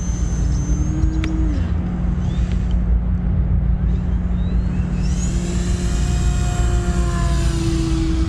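A small electric model floatplane, a Turbo Timber Evolution, whines steadily at high pitch, its tone rising and falling as it flies inverted and maneuvers, with a constant buzzing drone throughout.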